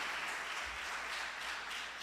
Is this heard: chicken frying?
no